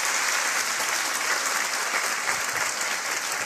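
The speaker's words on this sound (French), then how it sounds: "on vous applaudit tous les deux" Steady, dense applause from a French TV show studio audience fills the whole stretch, loud and even, with no clear voices standing out.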